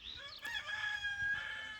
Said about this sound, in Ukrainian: співають півники